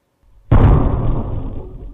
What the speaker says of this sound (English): We want you to hear the explosions people in Webster are hearing and recording on their security cameras